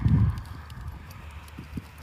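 Hoofbeats from privately owned horses during a riding lesson on a tight bending line, with a heavy thud at the start followed by lighter, irregular clip-clops on a soft arena surface, and no voices.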